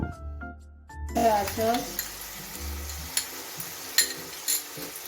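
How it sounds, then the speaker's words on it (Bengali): Vegetables stirred in a pan after lemon juice goes in, for a Chinese-style vegetable dish, with a steady sizzle, scraping strokes, and a few sharp clinks of utensil on pan. "লেবুর রস সবকিছু ভালো করে মিশিয়ে দিচ্ছি"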